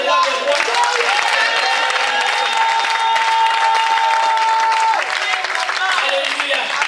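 French-speaking church congregation in Paris applauding and cheering for a bishop, sustained clapping and shouts mixed with tonal voices, all close and loud over nearly seven seconds.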